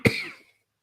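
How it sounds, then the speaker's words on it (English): A single short, sharp cough up close, dying away quickly into silence. "I really hate coughing."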